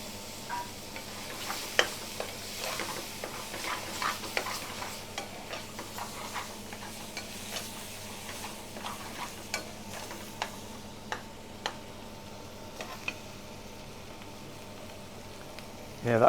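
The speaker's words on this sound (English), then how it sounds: "Yeah, that sizzling, that crackling sound, lovely" Steady sizzling and crackling of saag aloo curry frying in a pan with base gravy in a takeaway kitchen, with frequent small pops and stirring clicks throughout, fairly quiet and close.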